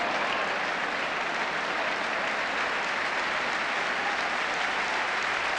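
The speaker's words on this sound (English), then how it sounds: "Applause all around" A large football crowd applauds in a dense, continuous roar of clapping that stays loud and even throughout, with no voices standing out.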